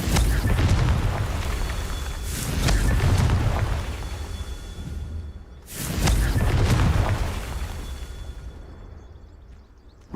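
Confringo fire spell blasts in Hogwarts Legacy, two loud booming explosions with long rumbling tails, the second following about five seconds after the first.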